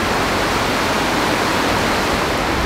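Waterfall at Gordale Scar in the Yorkshire Dales: a steady, loud broadband roar of falling water that stays even and continuous throughout, with no voices.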